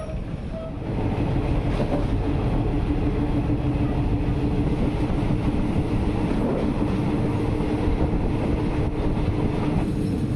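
A train rolls into Ban Kao stop on the Death Railway line toward Sai Yok, a steady loud rumble of wheels and carriages sustained throughout with faint clacking, no voices.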